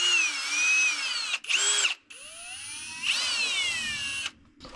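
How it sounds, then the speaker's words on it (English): A high whining power drill runs in bursts while drilling during a small-block Chevy engine build, pitch sliding up and down as it starts, stops and restarts several times, loud and close. "we'll slowly start to drill down"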